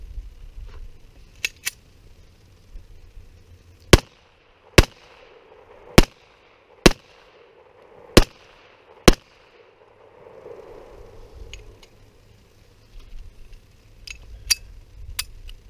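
A Walther PK380 .380 pistol fires paired double taps, sharp loud cracks in quick pairs, about seven shots spaced across the middle stretch, with quieter handling noises and faint distant pops around them.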